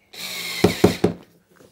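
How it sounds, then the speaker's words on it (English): A power drill driving screws into a wall-mounted cabinet bracket: a loud close whirring run with three sharp biting thumps near the end, then it stops. "I might put some more screws through it"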